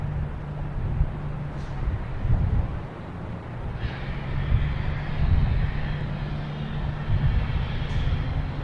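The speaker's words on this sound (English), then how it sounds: "a lot of these planes are just going to be turning and taking off right away." Airliner taking off at Boston Logan Airport, a steady roaring jet engine drone heard from a distance, rising and holding at moderate loudness with a faint higher whine layered in, no talking.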